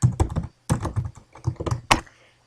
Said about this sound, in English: it's as simple as typing that and hitting send